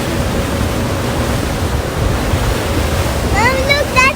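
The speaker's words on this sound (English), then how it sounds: "the waves, very high. Maybe 6 meters, 5 meters." High ocean waves, around five to six meters, crash during a boat crossing near Puerto Galera, a loud continuous roar of surf and wind with faint voices near the end.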